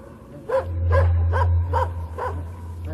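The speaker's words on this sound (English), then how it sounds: "Male baboons kidnap puppies." Feral dog puppies yip and bark in five quick, evenly spaced bursts over a steady low hum, fairly close, with no talk.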